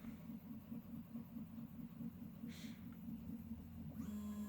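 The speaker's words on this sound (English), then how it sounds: "If you're hearing noise in the background, that's my 3D printer." A 3D printer running in the background indoors, a faint steady mechanical hum with rhythmic motor buzzing and a brief brighter whir, no speech.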